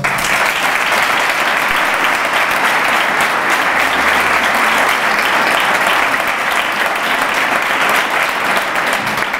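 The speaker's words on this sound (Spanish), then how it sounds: "pido para ellos un fuerte aplauso" Strong, sustained applause from a crowd fills a political presentation of IU Nerva's candidacy for the 2023 municipal elections, loud and steady throughout without a break.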